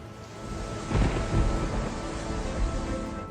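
A heavy rainstorm in Hong Kong, driven by a low-pressure area from a typhoon, pours down as a loud, dense roar with rumbling surges that swell and fade.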